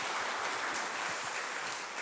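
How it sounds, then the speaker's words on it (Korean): A church congregation at a Sunday service claps, a brief, even wash of many hands applauding together at a moderate distance, with no break in the clapping. "우리 박수 한번 좀 쳐주세요"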